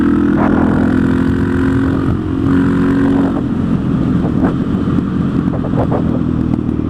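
A KTM 660 SMC single-cylinder motorcycle ridden out in the Scottish countryside, its engine droning loudly and steadily with pitch shifts as the rider changes speed, wind rush underneath.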